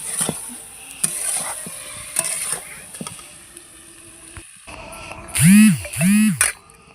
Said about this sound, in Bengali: আলতো হাতে নাড়াচাড়া করে নেব আস্তে আস্তে পুরো মশলাটা তো গায়ে মেখে যাবে